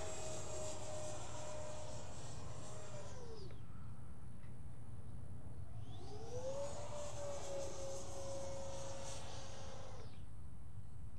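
Electric RC fixed-wing model plane flying maneuvers, its motor whine rising and falling in pitch as it passes by twice, fairly faint against the open air.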